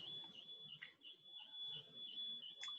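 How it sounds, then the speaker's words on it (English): A faint, steady high-pitched building alarm tone rings continuously in the background during an alarm test, with a few soft sounds underneath, distant and quiet. "The building that I live in, they're running some testing on the alarm"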